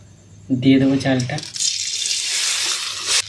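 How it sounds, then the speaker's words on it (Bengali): Rice hits hot ghee in a wok and a bright, steady sizzle spreads out for the remaining seconds after a short burst of talking. "চালটা দিয়ে দিয়েছি, ভালো করে ভেজে নেবো। চালটাকে কিছুক্ষণ ভাজবো।"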